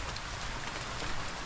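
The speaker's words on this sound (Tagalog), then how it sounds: "Buti na lang hindi masyado malakas yung ulan." Rain falls on a farm, a faint, even patter of light drops across a brief moment with no voices.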